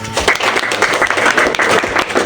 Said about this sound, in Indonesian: Tepuk tangan dulu buat Anda.